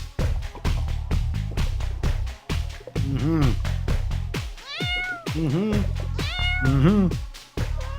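A cat meows several times in drawn-out, rising and falling calls over a steady loud thumping music beat, close and clear between bursts of human voice.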